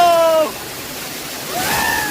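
A broad, steady rush of falling water fills the scene at a monsoon-season waterfall in Assam, constant and close, with brief faint tonal sounds at the start and end over the roar.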